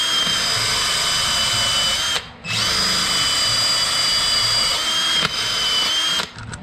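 A handheld power tool whines steadily as it cleans bare metal at mounting points before welding on a 1.5JZ engine build. It runs loud and close, with two short breaks where the tool pauses before starting again.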